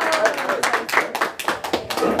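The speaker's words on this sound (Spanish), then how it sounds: "Y ese aplauso, bien bonito." Audience clapping at a Mother's Day mariachi performance, a few seconds of fairly close, uneven handclaps from a small crowd, with a voice speaking over it.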